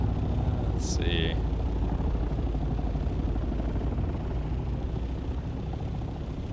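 A combat chopper in the video game Dune: Awakening sets up a dense, steady rotor and engine rumble that fills the clip, with a few short high chirps near the start.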